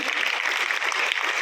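Applause from an audience at a school result announcement honouring a student's exam marks, a dense steady round of clapping throughout, close and fairly loud with no voices over it.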